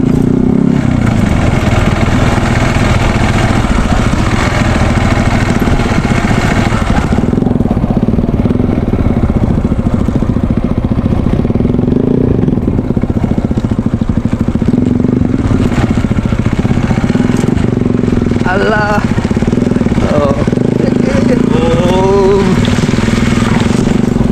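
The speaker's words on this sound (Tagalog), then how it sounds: "laban din yung aking motor dahil uh, ah, kapundok din to" A motorcycle engine labours up a hill road, its loud, continuous drone rising and falling with the throttle, with rattles and clatter over the rough mountain surface and no speech.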